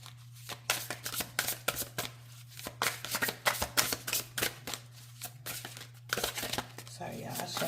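Tarot cards are riffle-shuffled over and over in quick, crisp bursts, close by, over a low steady hum.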